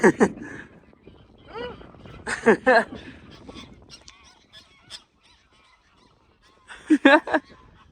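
Geese honk in loud bursts at the start, middle and end on the North Sea island of Norderney, with quieter stretches of outdoor noise between the calls.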